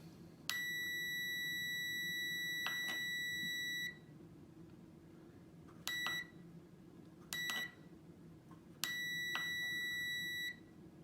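An OWON OW18E multimeter gives continuity beeps as a small push button is pressed: four sharp, steady electronic tones, two long and two short, each breaking off cleanly into quiet.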